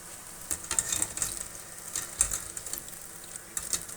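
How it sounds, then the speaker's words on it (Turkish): Eggplant fries in plenty of oil, sizzling and crackling steadily, with scattered sharper pops and spatters throughout. "bol yağda kızartıyorum. Bol yağda kızardığı zaman patlıcanlarımız çekmiyor."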